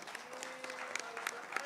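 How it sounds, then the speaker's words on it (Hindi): An audience at a live awards ceremony claps briefly and faintly, scattered hand claps and crowd noise in a short burst. "जरा नसर भाई के लिए भरपूर तालियां तो बजा दें।"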